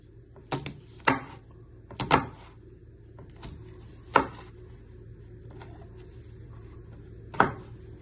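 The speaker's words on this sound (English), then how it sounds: "you're chopping them into little pieces" A knife chops peppers into small pieces on a board for a chicken balti curry, giving five or six sharp, separate knocks at uneven intervals over a quiet kitchen background.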